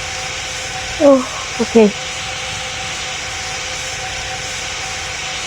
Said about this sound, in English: You have to use it the whole runway so this 777 can take off.